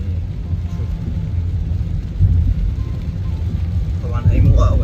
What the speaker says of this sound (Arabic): وهي المطر هون ما شاء الله نازلة، يعني شوف.